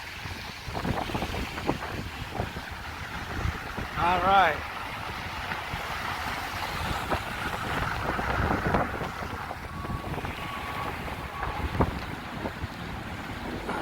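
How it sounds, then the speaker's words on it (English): Strong wind gusts during a snowstorm in downtown Chicago roar steadily against the microphone as a continuous broadband rush, with someone speaking briefly over it. "it's getting very windy at the moment"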